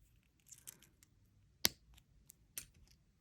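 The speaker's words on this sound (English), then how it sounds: "I'm going to come in with my flush cutters and give it a snip" Flush cutters snip excess jewelry wire while flower bead earrings are being made: one sharp, crisp click stands out, with a couple of lighter ticks and small handling rustles around it.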